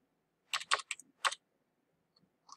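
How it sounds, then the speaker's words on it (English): Typing on a computer keyboard: a short quiet burst of crisp, close key clicks, then a pause and a couple more taps. "let me type it up"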